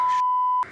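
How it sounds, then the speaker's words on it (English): A single short electronic beep from a phone alarm, a pure steady tone lasting just over half a second, clear and close. "My alarm went off."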